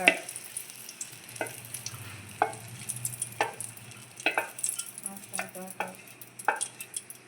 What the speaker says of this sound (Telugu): ఆల్రెడీ నెయ్యి వేడయింది కాబట్టి కొంచెం సేమియా వేసుకున్నాను.